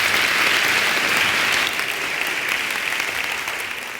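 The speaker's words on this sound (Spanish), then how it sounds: "Un aplauso para" Audience applause after a science club event, a dense, steady wash of many hands clapping at full volume that slowly fades toward the end.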